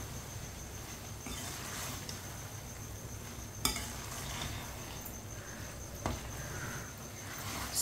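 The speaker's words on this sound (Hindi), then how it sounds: "अब इसे चम्मच चलाते हुए 2 मिनट के लिए पका लेंगे" Sarson ka saag cooks over a high flame in a pot, giving a constant dense sizzle and bubbling, with occasional scrapes and light knocks of a spoon stirring through it.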